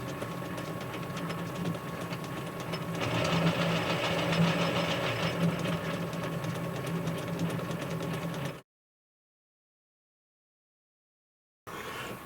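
A metal lathe runs in reverse with a steady mechanical hum and faint whine, rising slightly in the middle. The sound cuts to silence for about three seconds, then resumes briefly.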